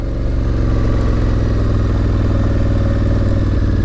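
A dual sport motorcycle rides solo along the Molalla River, its engine droning loud and close in a steady, unbroken note for a few seconds with no voices.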